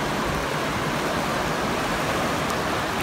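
The Kern River running high, a dense, steady roar of rushing water, loud and constant throughout, with no voices.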